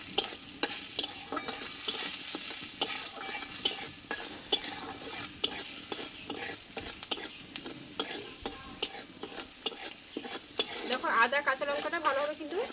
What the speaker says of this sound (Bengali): আদা কাঁচা লঙ্কাটা একটু ভালোভাবে আমি কষে নেবো